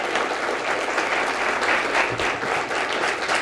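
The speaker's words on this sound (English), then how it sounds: "How about a final round of applause for our 3 wonderful presenters?" An audience at a community caregiving event gives its presenters a final round of applause, a dense, steady, close clapping that carries through without a break.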